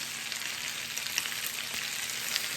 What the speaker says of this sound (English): I'm going to go ahead and put those sun-dried tomatoes in.